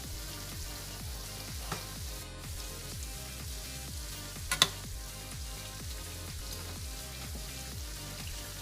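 Chicken cutlets fry in a pan, browning on both sides, giving a steady close sizzle with a couple of brief pops and no voices.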